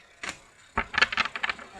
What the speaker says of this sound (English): I'll just give them a last wee shuffle.